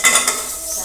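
Black salt is roasted with mango seeds in a pan, a spoon scraping and clinking against the metal in a quick close stir over a light sizzle.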